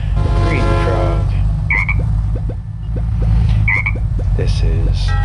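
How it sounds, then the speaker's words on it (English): Tree Frog character from the video game Crossy Road croaking in short chirpy bursts over steady game music, with a few soft hop-like taps spaced through the loop. "he just hops around like a frog, rivets. It's more like a chirping sound, I'd say."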